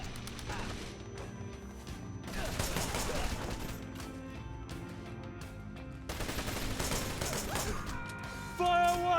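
Rapid machine-gun bursts and gunshots ring out in the Wanted: Dead action game, sustained and loud across the stretch, layered with busy combat effects and background music.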